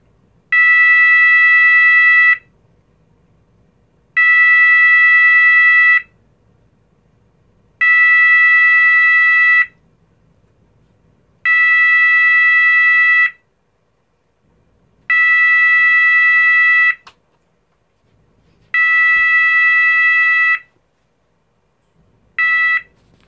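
An E2S A100DC24R electronic siren sounds a 660 Hz Swedish air raid tone, loud steady buzzing blasts about two seconds long separated by equal silent gaps, repeating six times before a seventh cuts short.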